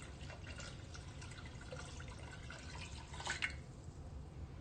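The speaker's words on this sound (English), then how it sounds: "so now I'm going to add the 4 cups of water" Water is poured into a pot of rinsed rice, a soft continuous splashing trickle close by with a brief louder gush near the end.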